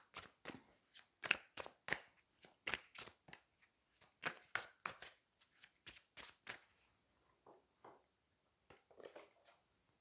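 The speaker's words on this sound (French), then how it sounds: "je viendrai peut-être retirer une carte par rapport à celle-ci" Tarot cards being handled and drawn from a deck, a long series of crisp flicking, riffling snaps in an uneven rhythm, close and clear with no one speaking.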